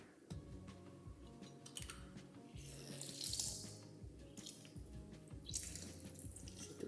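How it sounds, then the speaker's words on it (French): Half a lemon pressed in a hand-held citrus press for a two-salmon tartare, juice dripping and trickling steadily beneath faint clicks and rustles of the press, close and fairly quiet. "Je referme le presse-agrumes et je presse directement le jus."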